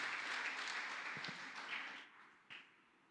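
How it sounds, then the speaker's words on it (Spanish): A church congregation applauds in a dense wash of clapping that fades after about two seconds, leaving a few scattered claps. "Démosles un aplauso"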